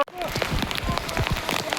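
Heavy rain pours steadily on surfaces during a monsoon outing, a dense continuous hiss with splashing drops close by, broken by a brief gap at the start and moving sounds underneath.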